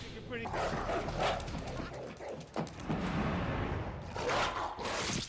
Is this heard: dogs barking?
yes